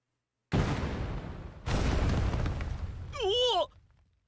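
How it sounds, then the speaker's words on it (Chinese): Game explosions in Echoes of Mana as a wall blows apart: two loud broadband blasts with rumbling tails, followed by a short warbling tonal effect, then quiet. "好，墙壁爆炸。"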